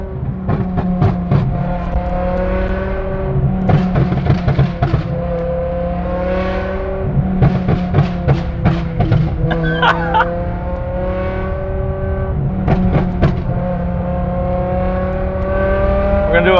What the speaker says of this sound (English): I would drive it like hell just to hear the exhaust pops every day.